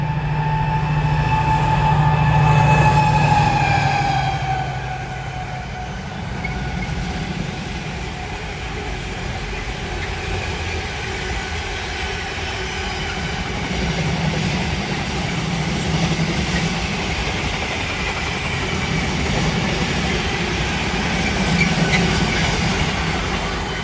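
A Tesco intermodal freight train, Crewe to Southampton, passes through Polesworth Station on the West Coast Main Line, a loud steady rumble of wagons rolling close by for the whole stretch, with a fading horn-like tone early on.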